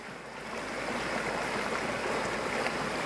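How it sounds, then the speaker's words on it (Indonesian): A river stream flows steadily past a village in the Indonesian countryside, its continuous broadband rush of water close and even throughout, with no voices. "sembari menikmati aliran sungai yang sangat enak didengar"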